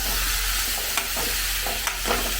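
Chopped tomatoes sizzle steadily in a hot pan as a spoon stirs them, with several soft scraping strokes over a constant frying hiss.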